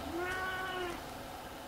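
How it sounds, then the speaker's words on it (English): A cat gives a single drawn-out meow that rises and then falls, fairly faint over a steady background hum, indoors during an online talk, with no talking. "this is my cat Greta"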